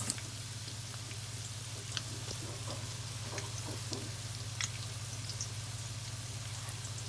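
Tortang dulong, an omelette of tiny fish, frying in a pan: a continuous soft sizzle with scattered fine crackles and pops, steady and close, under a low background hum.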